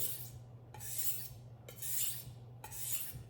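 A kitchen knife drawn along a fine whetstone in four long, even rasping strokes with short pauses between them, close and clear over a low background hum.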